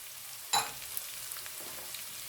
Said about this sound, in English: Then immediately add chopped onions.